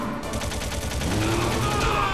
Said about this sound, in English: Fire that machine gun with your weapon gun!